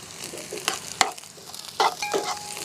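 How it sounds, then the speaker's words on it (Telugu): Capsicum stir-fries with fried onions in a hot pan for chicken Manchurian. A soft sizzle runs throughout, broken by a few sharp spoon clacks and stirring scrapes, close and moderately loud. "ఆనియన్స్ వేగిన తర్వాత క్యాప్సికమ్ వేసుకుంటా ఉన్నా"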